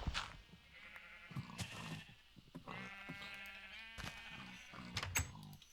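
Sheep bleat repeatedly in a video game farm, several overlapping wavering calls spread across the clip at moderate loudness with no talk.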